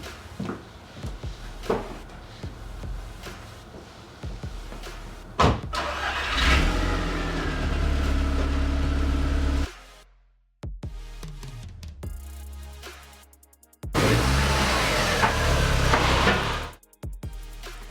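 An Audi TT MK1 fires up and idles with a steady engine drone, then cuts off, restarts and runs again before shutting down, with door clunks and garage clatter in between, close by in an enclosed space.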